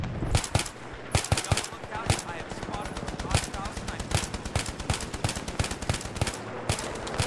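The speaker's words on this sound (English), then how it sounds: "Some kind of sniper is shooting at me." Sniper and automatic gunfire ring out in a Battlefield 3 Conquest match on the Kharg map, with sharp shots in rapid, irregular bursts throughout and some quieter background talk mixed in.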